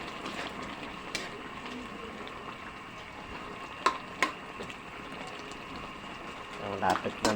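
Pot of tukwa and opo bottle gourd dish simmering, a soft steady bubbling and sizzling hiss with occasional utensil clinks and taps, fairly quiet.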